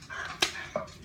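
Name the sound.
dog barking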